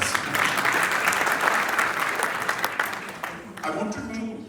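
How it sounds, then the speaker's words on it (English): An audience breaks into sustained applause for the sitar player Anushka Shankar, a dense, even wash of clapping hands that holds for several seconds and then thins out toward the end. "I think Anushka ji deserves another round of applause"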